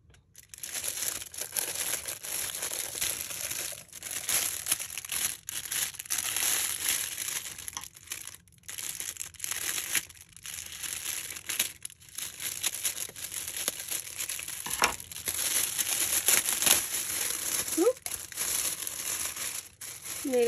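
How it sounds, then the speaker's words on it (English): Iridescent cellophane wrapping around a gift with a flower on top crinkles and crackles as it is handled, a dense, continuous rustle close to the microphone with a few short pauses. "I love this iridescent cellophane as well."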